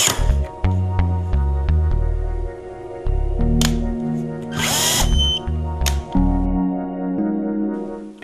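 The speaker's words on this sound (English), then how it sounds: "Then apply torque to the screw using the power tool." A power tool drives a rundown screw on a Norbar torque screwdriver tester in several short whirring bursts, each tightening under load. The bursts are close and loud, with clicks and brief pauses between them.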